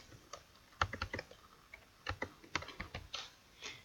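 Quick bursts of key presses on a computer keyboard, soft irregular clicks over a few seconds, quiet and close, with no talk.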